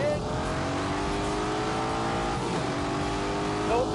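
An Aston Martin sports car, the smallest and punchiest in the range, drives in The Grand Tour video game, its engine droning steadily with rising tonal sweeps, loud and close, while a voice talks over it.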